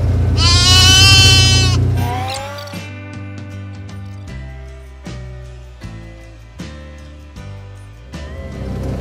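In a field during lambing, a sheep lets out one loud, wavering bleat up close. Quieter, intermittent knocks and rustles follow.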